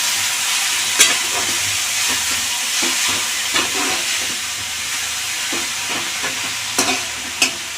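Tomatoes frying in a hot pan for coriander-tomato chutney, giving a steady close sizzle and hiss broken by occasional clinks and stirring scrapes.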